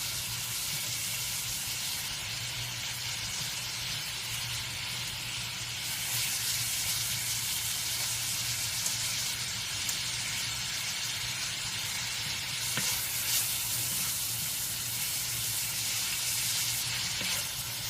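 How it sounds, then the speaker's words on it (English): Ground meat such as turkey, beef or pork browning in a pan, giving a continuous close hissing sizzle with slight surges and faint stirring, without speech. "And while my meat is browning"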